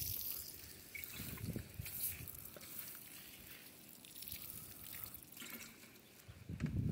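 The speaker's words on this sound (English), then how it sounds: "water the base so you don't bleach them" Water running and trickling onto the soil at the base of garden plants, a steady wet dribble close by with faint outdoor background, no talking.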